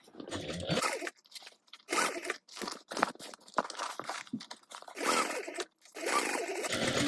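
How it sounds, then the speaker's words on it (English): A sewing machine back stitches over the side seam of a tote bag in several short, stop-start bursts of close whirring, separated by brief pauses. "I'm gonna back stitch over the side seam."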